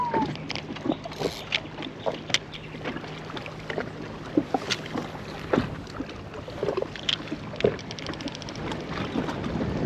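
Gusty wind buffets the microphone in uneven rumbling bursts, with water and boat noises mixed in close by.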